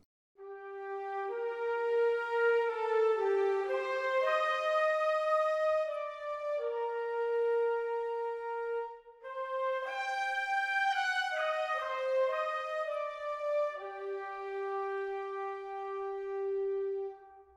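A trumpet doubled by flutes and by clarinets an octave lower, joined by chamber violins, holds a sustained blended orchestral phrase of long smooth notes in two sweeping statements, clear and even, with no voices.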